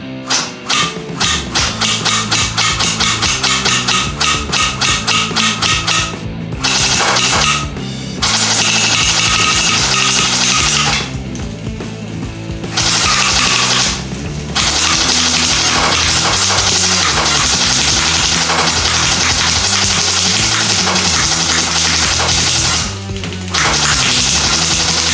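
Rapid bursts of F4 Superior gel blaster shots strike a Coca-Cola can, loud continuous snapping and clattering with brief pauses between volleys, alongside steady music.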